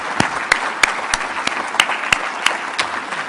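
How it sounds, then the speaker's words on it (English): A live audience claps through a round of applause at an acceptance event, the crowd steady with sharper individual claps standing out, with no voices. "Nice round of applause for all of them."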